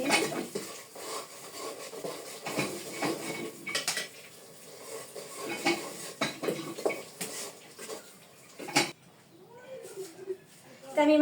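Meat seasoned with salt and chili is stirred in a metal pot, with a spoon scraping and clinking against the sides in repeated strokes while a person talks over the cooking.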